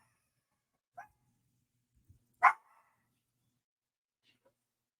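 Coco the dog barking indoors, a few isolated short barks spaced apart, one sharper and louder than the others, in an otherwise quiet room.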